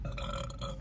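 A single loud, close, rumbling burp after drinking Sprite during a Sprite challenge, heard alone without talk.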